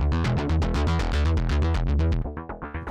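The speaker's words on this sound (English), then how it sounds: "So we've already got some distortion on there." A Korg KingKorg NEO synthesizer with distortion plays a loud, gritty fast sequence of distorted notes with a thick, buzzing harmonic tone, then trails off into choppier repeated hits.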